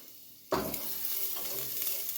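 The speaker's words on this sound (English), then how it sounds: "And stir the garlic." Garlic sizzles in hot oil as a spatula stirs it, with a sudden loud frying hiss and scraping that starts after a quiet moment and continues steadily.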